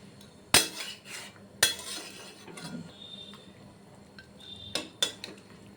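Metal utensil clanks and scrapes against a cooking pan while prawns are stirred in warm water, with a couple of sharp clinks near the start, softer stirring scrapes through the middle and two more clinks near the end, moderately quiet and free of talk.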